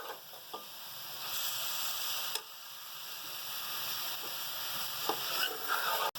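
Chicken pieces frying in a hot pan over high heat, a steady close sizzle with occasional stirring clicks and scrapes, no voices.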